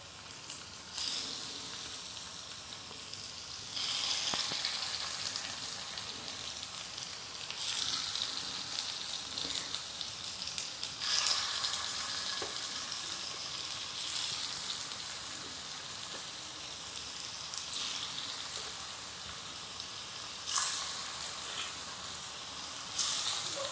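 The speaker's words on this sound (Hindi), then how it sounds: "तो इसको लो फ्लेम पर सेकेंगे" Fasting-recipe snack balls fry in a little oil over a low flame, a steady crackling sizzle that swells and eases in waves across the whole stretch, close and alone without speech.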